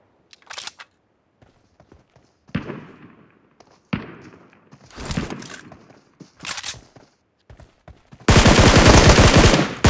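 Game gunfire from Mobile PUBG: several separate bursts of shots spread across the clip, ending in a loud sustained rapid-fire burst, with no talking.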